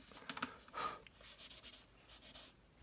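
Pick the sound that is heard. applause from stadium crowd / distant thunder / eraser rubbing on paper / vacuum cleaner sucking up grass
eraser rubbing on paper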